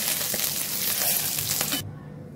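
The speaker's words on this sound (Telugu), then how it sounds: "ఇప్పుడు ఇది వేరే బౌల్లో మార్చుకొని ఇందులోనే టమాటా వేయించుకుందామండి" Tomatoes fry in oil in a pan with a loud, dense, crackling sizzle and occasional stirring scrapes, close up. The sound cuts off sharply near the end, leaving only a faint hum.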